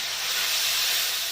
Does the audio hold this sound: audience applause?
no